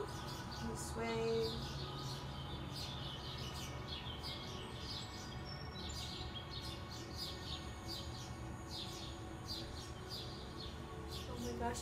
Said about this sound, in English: Oh my gosh, I love the birds so much.